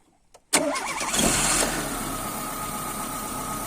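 A car engine is cranked with the starter and catches almost immediately, roaring up loud and close before settling into a steady idle after a short silence.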